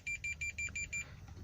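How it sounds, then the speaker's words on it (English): A multimeter emits a rapid series of about six short, sharp electronic beeps in an even rhythm as current passes through a wire in a car seat, followed by quiet background. "Basically, when current is passing, it's going to make a beep sound,"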